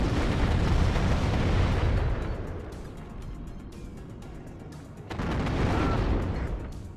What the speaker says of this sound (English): they both fire at the same time, the tank gun and the autocannon